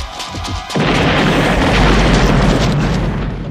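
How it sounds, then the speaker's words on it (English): Explosion in the 1995 film GoldenEye: a loud, deep boom erupts after a short lead-in and rolls on as a sustained roar of blast and debris. "Another gorgeous explosion."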